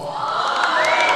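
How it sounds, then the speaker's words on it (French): Crowd at a wrestling show in a club venue roaring and cheering with applause as a wrestler is introduced, a dense, loud, sustained wall of voices and whoops with no single voice standing out. "un tonnerre d'applaudissements"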